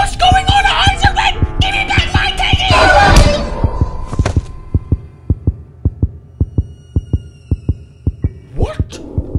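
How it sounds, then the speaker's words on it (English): Heartbeat from a teddy bear in the horror video game Granny, a loud steady run of low thumps at a regular pace after a burst of tonal game sound, with a brief squeak at the end. "Why has this teddy bear got a heartbeat?"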